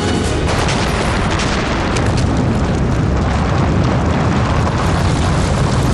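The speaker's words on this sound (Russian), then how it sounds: "Взрыв. Ударная волна проникает в командный пункт." An explosion aboard the nuclear submarine Kursk, heard as a loud, sustained roaring blast of dense rumbling noise that fills the whole stretch without voices.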